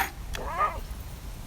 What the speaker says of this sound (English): We have a cat chewing the bars.